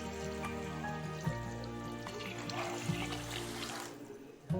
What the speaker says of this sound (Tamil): அஞ்சு டம்ளர் தண்ணி அளந்து வச்சுருந்தேன், அதை சேர்த்துட்டேன்.